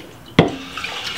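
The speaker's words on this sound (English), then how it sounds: "I'm just going to put a little bit of water inside of my Ninja blender." Water splashes into a Ninja blender jar in one short burst, followed by a faint ringing trickle that quickly fades.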